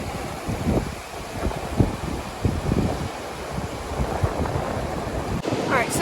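An outdoor river flows at a backpacking spot with no crossing, a steady broadband rush of water with wind buffeting the microphone, constant and fairly close.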